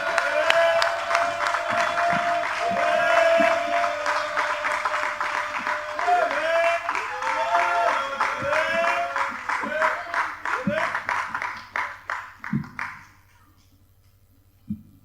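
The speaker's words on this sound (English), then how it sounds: "Can you give him a round of applause, please?" An audience applauds Elder Cecil Gutzmore with sustained clapping mixed with voices and tonal cheering. The sound stays loud and full, then thins into scattered claps and fades out.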